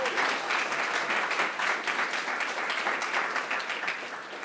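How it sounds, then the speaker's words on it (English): Steady audience applause at a technical conference gala, dense even clapping from a large room that carries on without a break and fades slightly at the end, with no talk over it. "Give him a round of applause"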